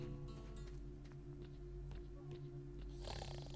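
A man snores in the video game STALKER: Shadow of Chernobyl, a low droning rasp heard faintly under a steady hum of game ambience, with a brighter burst of noise near the end.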